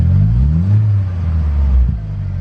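A GTI turbo car engine, just fitted with a replacement gearbox and cam sensor, idles, then revs up briefly without popping or banging and settles back down, close and steady in tone.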